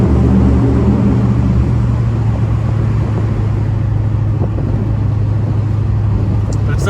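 A 1970 Ford Mustang 302 convertible driving on a sunny day test drive: a steady loud engine drone mixed with road and wind rumble, continuous throughout.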